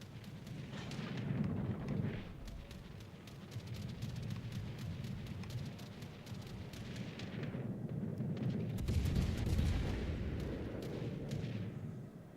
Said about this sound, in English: They're all firing through the island.